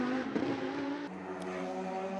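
A Lamborghini race car in GT Cup qualifying at the Macau Guia street circuit drones with a steady, high engine note, close and sustained, with a slight shift in pitch partway through.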